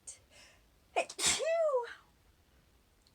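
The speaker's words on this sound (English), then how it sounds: "Somebody's always gonna sneeze somewhere." A single loud sneeze erupts after a couple of quick sharp inhales, followed by a short descending vocal tail, then quiet; nearby and clear.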